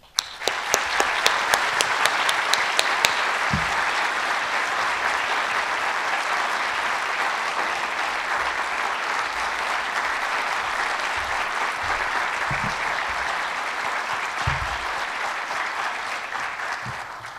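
A lecture audience claps steadily to welcome a speaker at a Japan Foundation talk. The applause opens with a few sharp individual claps, then settles into a dense, even roar that holds for the whole stretch before tapering slightly.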